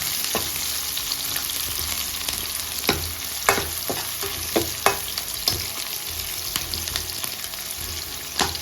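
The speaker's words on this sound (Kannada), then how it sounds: "ಇದನ್ನ 1 ನಿಮಿಷ ಹಾಗೆ ಮೀಡಿಯಮ್ ಫ್ಲೇಮಲ್ಲಿ ಫ್ರೈ ಮಾಡ್ಕೊಳ್ಳೋಣ" Chopped onions sizzle steadily in hot oil in a pan for village-style chicken sambar, a continuous close frying hiss broken by several sharp clicks and scrapes of stirring, with no talk.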